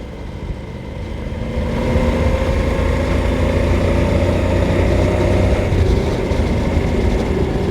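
Suzuki V-Strom motorcycle ridden along California Highway 74, the Pines to Palms Highway, with a loud, steady engine drone and rushing wind roar that swell after the first two seconds and hold constant.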